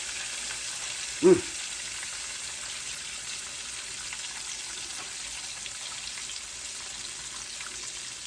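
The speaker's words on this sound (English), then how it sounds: "Just flip it back over and make sure it fries." Floured liver sizzles in a frying pan with a soft, constant crackle, broken by one brief louder clatter near the start.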